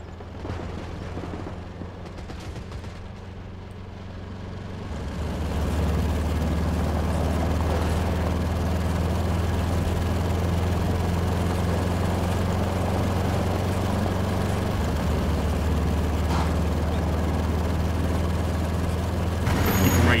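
A World War II military vehicle in a swamp battle from Gates of Hell rumbles into motion: a heavy, steady low engine drone builds after a few seconds and holds loud and close, with faint distant combat noise behind it.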